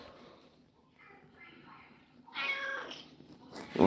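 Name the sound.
cat meowing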